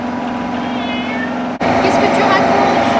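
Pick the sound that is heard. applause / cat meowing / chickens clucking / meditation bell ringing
cat meowing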